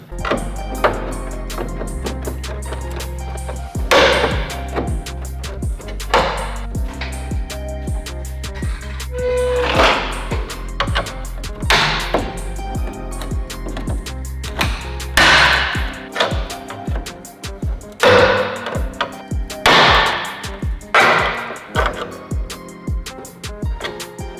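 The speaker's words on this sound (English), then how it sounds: "I think, being that they're so junky, I should be able to just pop them loose." Old, poorly done repair welds on a Honda NSX body being struck loose with a metal tool, heard as loud, sharp, irregular clanging blows repeated across the whole stretch with no talking.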